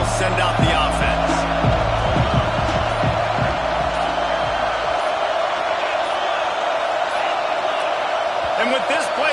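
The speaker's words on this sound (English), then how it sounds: "And with this place rocking, the crowd forces a false start." A stadium crowd at a Georgia football game roars loudly and continuously, a broad wall of noise that stays constant throughout, with a commentator talking over the first half.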